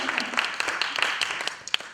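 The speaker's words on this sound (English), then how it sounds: "Please give him a round of applause." An audience applauds a panelist after a conversation on masculinity, steady clapping spread through the crowd over the full two seconds with a few sharper individual claps standing out.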